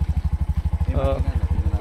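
A 2024 Bajaj RE tuktuk three-wheeler engine idles close by with a steady, rapid low-pitched chugging pulse, while a voice speaks briefly over it partway through.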